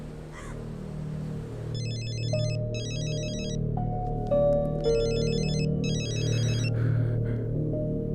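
A phone ringtone chirps in repeated electronic bursts, two pairs of rapid trilling tones with a gap between, over a steady background hum in a room.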